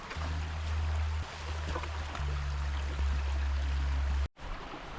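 Steady river water flowing outdoors at a campsite while dishes are washed, a continuous close rush with low rumble, briefly cut near the end.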